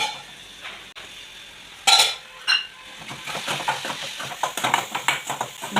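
Metal pot lid lifted off a pan of tomatoes cooking on the stove, a couple of sharp clanks followed by soft stirring and light clinking of utensils against the cookware.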